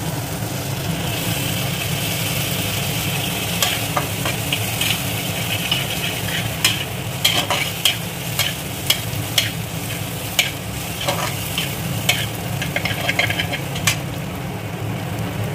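Fennel seeds and green chillies fry in hot oil for a raw banana kofta curry, with a steady close sizzle and repeated spoon-stirring scrapes against the pan.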